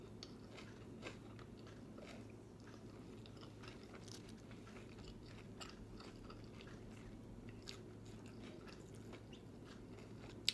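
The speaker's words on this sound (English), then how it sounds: "It's delicious. Let's have another bite." Crunchy homemade spring roll being bitten and chewed up close, soft repeated crunching and chewing sounds over a low steady background hum, with no talking.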